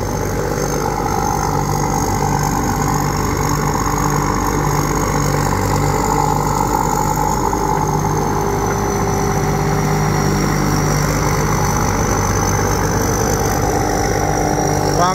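Steady, loud engine drone of a Chokboonchu rice combine harvester with an air-conditioned cab, working a rice field in Buriram, Thailand, running continuously at high throttle with a constant mechanical hum and no talk.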